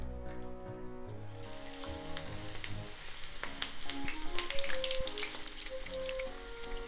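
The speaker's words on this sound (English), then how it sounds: "I'm gonna fry the shishito peppers." Shishito peppers deep-frying in hot oil for tempura, a steady close crackling sizzle with bursts of popping that swell midway and continue throughout.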